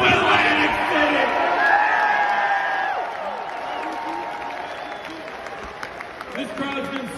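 Large arena crowd at a professional wrestling event in Atlantic City cheering and applauding steadily throughout, loud at first and easing slightly, with scattered whoops and a speaker's voice over the din.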